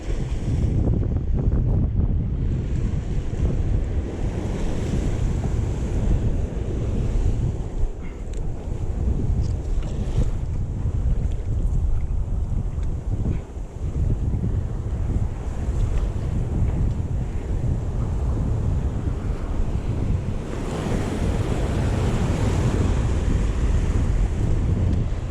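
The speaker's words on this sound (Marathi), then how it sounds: "बघू शकता कसल्या लाटा येतात मोठमोठ्या." Large sea waves roll and break near the shore beside a fishing boat, a loud continuous roar of surf heavily mixed with gusting wind buffeting the microphone.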